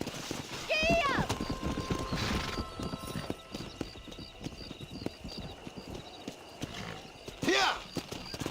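A horse gallops in the Red Dead Redemption video game, with rapid rhythmic clip-clop hoofbeats running throughout and a loud whinny near the start and another near the end, while someone speaks over the action.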